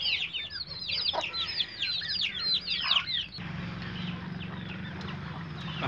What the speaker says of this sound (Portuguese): vou finalizar com minhas galinhas se preparando a dormir